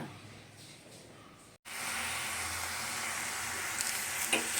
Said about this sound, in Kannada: ನೋಡಿ ಈಗ ನಾನು ಅಗಸೆ ಹೂವನ್ನು ಬಾಗಲೇ ಹಾಕಿ ಹುರ್ಕೊಳ್ತಾ ಇದ್ದೀನಿ